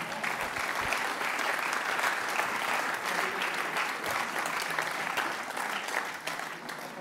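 Audience applause at a political party's national council speech, a dense, sustained clapping from a large indoor crowd that holds steady at full strength throughout.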